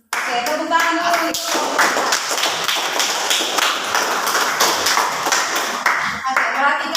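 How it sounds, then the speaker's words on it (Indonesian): A school class claps their hands in a dense, continuous patter for several seconds, fairly loud and close, with voices mixed in. "tepuk tangan dulu"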